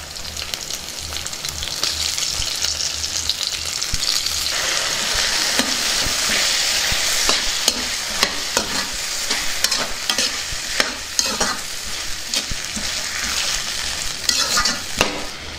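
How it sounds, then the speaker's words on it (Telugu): Potato pieces sizzle and fry in a pan for a potato and capsicum curry with ginger-garlic paste, a spoon scraping and stirring repeatedly through a loud, continuous hiss, with no talking. "ముందుగా కట్ చేసి పెట్టుకున్న బంగాళదుంప ముక్కల్ని వేసుకుందాం"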